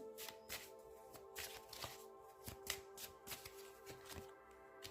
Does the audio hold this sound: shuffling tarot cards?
yes